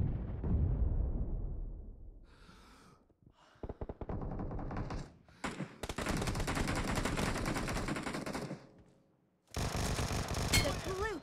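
Gunfire in a 4v4 team deathmatch video game, a string of loud bursts and rapid automatic fire with booming impacts, broken by brief quiet gaps.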